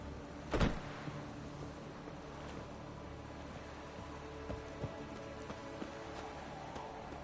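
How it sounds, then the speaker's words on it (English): Steady light rainfall in The Witcher 3, a soft continuous patter with scattered faint drops, plus one brief sharp knock early on, heard alone without voices. "Looks like rain."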